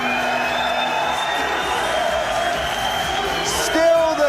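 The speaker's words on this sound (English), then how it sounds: "Still the crowd are chanting and cheering." A large arena crowd at a Cage Warriors mixed martial arts event in Dublin chanting and cheering in a steady roar, with a commentator talking over it.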